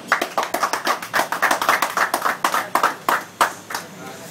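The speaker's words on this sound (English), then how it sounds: "I'd like you to give a big round of applause to Anthony Lyons" A small audience at a boxing press conference gives an uneven round of claps, sharp separate hand strikes in a loose irregular rhythm, fairly close, over about four seconds.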